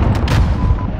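A Gremlin drone self-destructs in a video game: a short, loud, close boom with a heavy low rumble and a crackling burst that fades within about a second.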